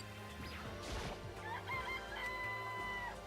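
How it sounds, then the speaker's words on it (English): Chicken clucking and crowing in the Danganronpa video game, several short calls over a steady background game soundtrack, with a brief crash near the start. "It's a chicken."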